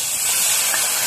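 Garlic, cumin and ginger sizzling in hot mustard oil for a raw banana curry, a loud continuous close hiss with no speech over it.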